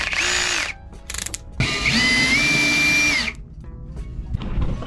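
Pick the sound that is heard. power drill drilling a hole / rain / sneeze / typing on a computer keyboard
power drill drilling a hole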